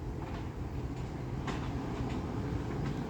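A train rolls through Coseley station with a steady low rumble and faint rhythmic clicks of wheels over rail joints, continuous and fairly loud throughout with no voices.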